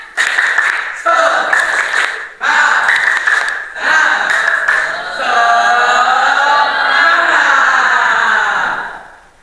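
A classroom of students doing a rhythmic spirit clap, loud, close patterned clapping in short bursts, with a chorus of voices chanting along between and over the beats.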